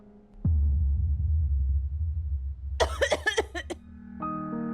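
A few sharp bursts of coughing arrive close together in a domestic drama scene, sitting over a steady low hum, with a sustained tonal sound coming in right after the coughs.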